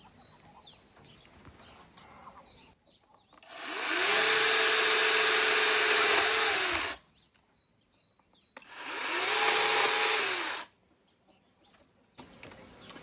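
A motorized saw cuts tree branches in a village garden in May. It runs in two loud, sustained bursts, the first longer than the second, against a steady chirping of crickets in the quiet gaps.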